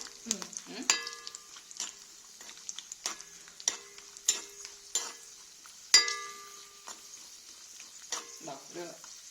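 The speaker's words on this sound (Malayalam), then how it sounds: "ഇളക്കി കരിയാതെ നോക്കണം" A pineapple sago payasam mixture being stirred in a pan so it does not burn, with a steady sizzle and repeated scraping taps of the spoon against the pan, fairly close and moderate in volume, with no talking.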